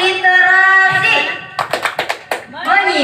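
A group of people performs a literacy clap rhythm, a quick series of about seven sharp hand claps in a patterned beat, framed by voices chanting before and after.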